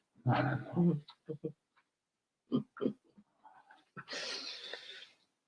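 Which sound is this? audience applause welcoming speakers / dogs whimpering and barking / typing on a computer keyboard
dogs whimpering and barking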